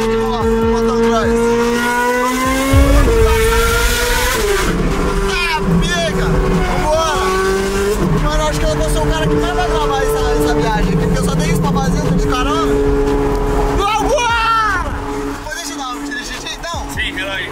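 A Ferrari pulls hard away from a highway toll booth, its engine rising in pitch and dropping back through several gear changes, loud and close throughout.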